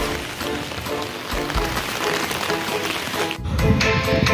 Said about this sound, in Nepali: यस्तो पानी झरीमा भए पनि